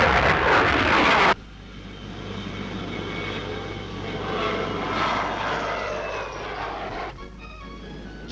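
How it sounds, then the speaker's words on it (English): A 40-seat Hermes propeller airliner flies at the Farnborough air show, its engine drone loud at first, then dropping to a steady, more distant rumble. "Foreign visitors are especially impressed by the 40-seater Hermes airliner."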